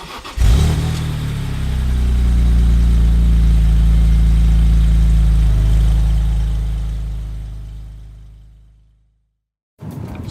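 A 2002 BMW E46 M3 engine fires up on a cold, snowy morning and swells into a loud, close, steady roar that holds, then cuts out to silence before briefly returning.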